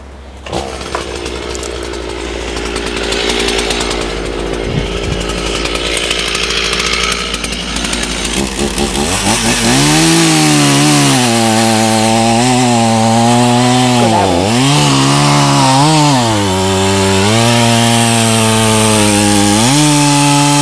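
A chainsaw cuts a notch into a standing tree for firewood, a loud, close, continuous engine roar that starts as a rough rasp, then rises to a steady high whine that dips and revs as the bar bites into the wood.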